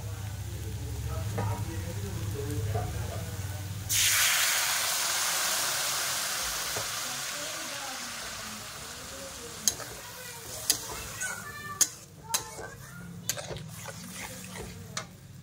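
Water poured onto frying dal hits the hot pan with a sudden loud hiss that slowly fades into a bubbling simmer, followed by a few sharp clicks of a utensil.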